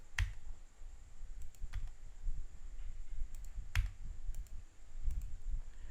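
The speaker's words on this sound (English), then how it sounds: "Click on the beginning of the paragraph and click Tab once on your keyboard." Several sharp, isolated clicks from a computer keyboard key are spaced a few seconds apart over faint room hiss. The taps are quiet and close.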